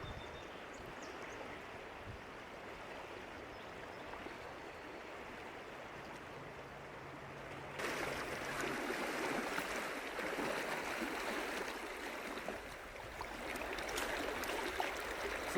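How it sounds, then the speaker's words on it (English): The Ruby River flows in a steady broadband rush of moving water, continuous and fairly close, swelling slightly louder partway through. "So we're on the Ruby River."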